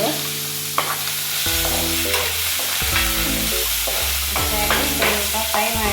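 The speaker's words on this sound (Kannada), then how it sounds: "ಸಾಸಿವೆ ಹಾಕೋಣ. ಸಾಸಿವೆ, ಸ್ವಲ್ಪ ಉದ್ದಿನಬೇಳೆ, ಈರುಳ್ಳಿ, ಬೆಳ್ಳುಳ್ಳಿ," Mustard seeds, urad dal, onion, garlic and a dried chilli fry in hot oil for a village-style chutney, with a loud continuous sizzle broken by repeated scraping stirs of a spatula against the pan, close up and without talking.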